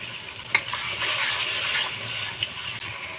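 Ginger-garlic paste hits frying tomatoes in a pan for a chicken curry, giving a steady, close, bright sizzle with a sharp clink near the start and a small knock later.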